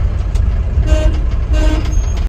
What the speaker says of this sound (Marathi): टेम्पो